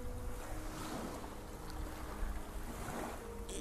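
Ocean waves washing onto a beach in the game Garten of BanBan 3, with a steady broadband wash and wind noise holding at an even level throughout and no voices.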